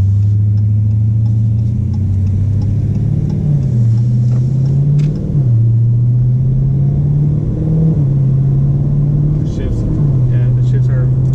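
A Dodge SRT engine hums steadily from inside the cabin, its pitch climbing and then dropping repeatedly as the eight-speed automatic transmission works through gear after gear.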